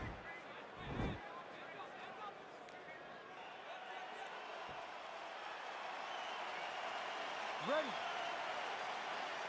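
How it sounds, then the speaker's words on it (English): A crowd in a UFC video game arena keeps up a broad, steady roar that swells slightly toward the end, with a commentator talking over it. "crowd getting excited as this fight gets underway"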